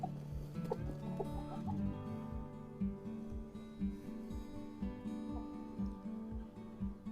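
A flock of Barred Plymouth Rock chickens, roosters and hens kept at a backyard breeding farm, cluck continuously with rhythmic low clucks and occasional higher calls, close and steady with no talk.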